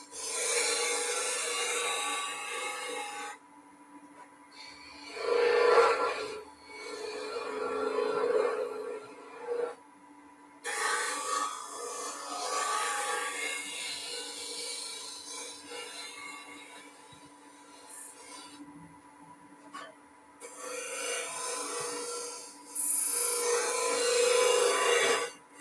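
A skew chisel held on its side cuts spinning wood on a lathe, giving a soft, rasping scrape that comes and goes in several passes of a few seconds, with a faint motor hum beneath.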